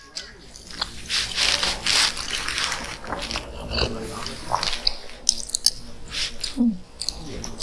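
Someone bites and chews crispy homemade roast pork, wet crunching and smacking sounds close up, with a few faint other sounds in the background.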